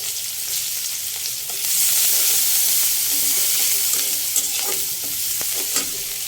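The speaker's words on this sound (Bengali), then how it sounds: "মাছ ভাজা তেলের ভিতরে এবার আমি পেঁয়াজ কুচি দিয়ে দেবো।" Chopped onions hiss and sizzle steadily in hot oil previously used for frying fish, with loud continuous frying noise, occasional stirring clicks and no talk.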